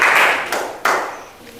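Students in a Hindi classroom give a round of applause: a dense burst of hand clapping that tapers off, followed by two more short clapping swells that also fade, fairly close and with no talking.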